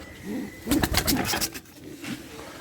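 Pigeons coo softly at a loft where a tired racing hen has just returned. The low coos and a flurry of wing and movement noise come from close by, with no talk.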